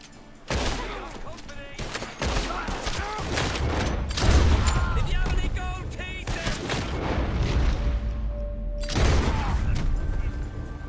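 Gunfire in a Red Dead Redemption 2 shootout: loud, dense volleys of overlapping shots and booms across the whole stretch, with a brief lull near the end before another burst, and voices mixed in beneath the shooting.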